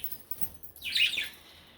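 A single brief, bright chirp from young budgies indoors rises out of a quiet background and fades within half a second.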